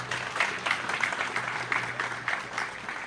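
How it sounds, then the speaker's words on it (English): A crowd at a graduation ceremony for inmates at a training centre claps steadily, the applause filling the whole stretch at a moderate level with no voices standing out. "Can we give a round of applause?"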